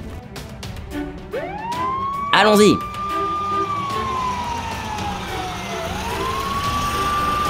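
Toy fire engine siren wailing in rising and falling sweeps, steady and fairly loud, with a brief clattering burst partway through and excited voices talking over it.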